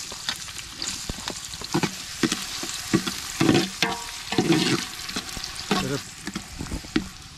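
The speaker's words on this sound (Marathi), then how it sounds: "आज आता आपण कांदा टाकतो. पहिला कांदा जरा परतून घेऊ." Onions fry in a pan for mutton curry, a close crackling sizzle broken by repeated scraping and clattering strokes of a stirring spoon at irregular intervals.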